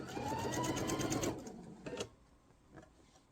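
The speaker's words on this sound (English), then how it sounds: "I just use that line on my foot to know where my needle is and that I'm sewing it straight" Sewing machine stitching quilt binding, a steady fast motor hum and needle chatter for about a second and a half before stopping, followed by a couple of brief softer mechanical bursts.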